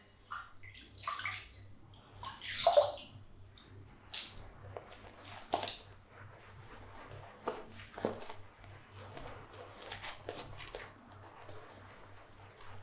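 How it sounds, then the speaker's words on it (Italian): Water splashes irregularly during a shaving session, with several wet bursts and sloshes, the loudest early on, over a faint steady hum and no speech. "Botta d'acqua"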